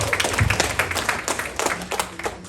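Applause from an audience at a coaching or business talk, a steady patter of many hands clapping at moderate volume for the length of the clip, with no talk over it.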